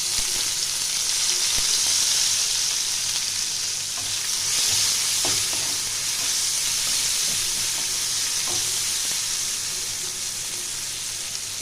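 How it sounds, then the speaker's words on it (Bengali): Dried red chillies and onion fry in hot oil, giving a steady close sizzle and hiss throughout with occasional faint stirring knocks, no voices. "পেঁয়াজটা আমি হালকা করে ভেজে নেব"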